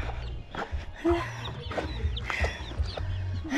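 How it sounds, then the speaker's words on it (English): Chickens cluck in a rural Guatemalan mountain setting. Several short calls sound at close range over a steady low rumble of ambient noise. "Chicken"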